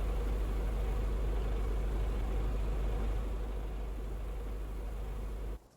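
A loud, steady low truck engine rumble idles continuously in Farming Simulator 19, with a hissy, synthetic quality, then cuts off abruptly near the end.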